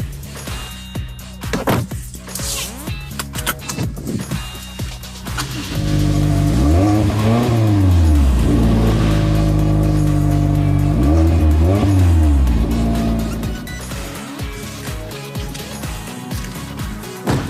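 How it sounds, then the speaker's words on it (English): Engine of a 2022 Toyota Corolla Apex with a conical exhaust and tuned muffler, loud close revving that rises and falls twice in strong sweeps, with busier driving sounds before and after. "driving excitement is further enhanced through the exhaust system we saw earlier, which uses a conical design and tuned muffler to deliver a pulse-quickening tone every time you"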